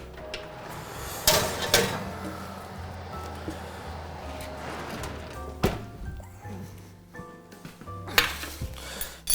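Metal pans and trays clink and knock in a kitchen as wild garlic is taken out of an oven, with several sharp bright clatters spread across the moment over a low steady hum.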